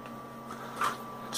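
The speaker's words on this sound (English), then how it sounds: "motor running." The motor of a homemade rotary speaker with interchangeable horns runs in a quiet room, a faint steady electric hum with a thin high whine and a soft brief swell near the end.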